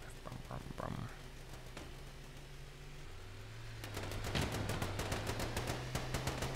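Gunfire in the video game Scraps, with rapid bursts of shots crackling through the second half over a steady engine drone from a vehicle.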